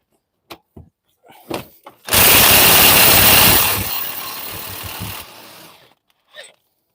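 Loud burst of powered tool noise from loosening a timing chain sprocket bolt with a 19mm socket on a 2014 Nissan Qashqai 1.2 petrol engine, running a few seconds then easing off, with brief knocks before and after.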